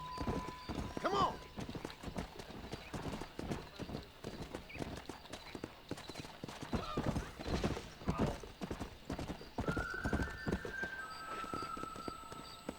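Horse hooves clip-clopping at a brisk gallop in the Red Dead Redemption western game, steady rhythmic beats with a whinny near the start, over background game sound and music.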